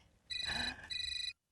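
A telephone rings in two electronic bursts with a short gap between them, fairly close and clear, over quiet room tone.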